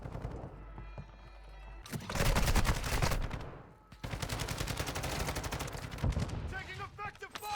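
Heavy gunfire rattles in Call of Duty DMZ, with rapid automatic bursts and a dense, loud barrage in two long stretches. Brief radio-style voice callouts sit among the shots.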